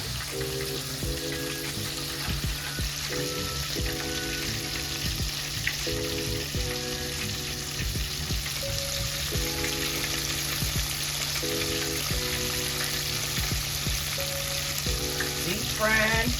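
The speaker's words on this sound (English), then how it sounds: "I know you guys can hear it frying." Continuous crackling and sizzling of Southern fried chicken frying in hot oil, a steady bubbling hiss with faint clinks in the background.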